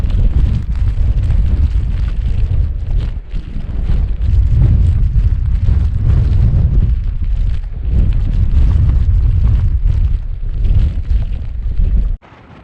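Strong gusty wind buffets a GoPro set on an exposed hilltop along Derwent Edge, a loud continuous roar with surging gusts that drops off abruptly near the end.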